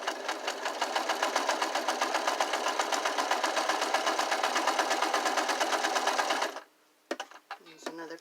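A sewing machine stitching a curtain hemline runs loud and close with a fast, even mechanical chatter for about six seconds, then stops, leaving a few soft handling clicks and fabric sounds.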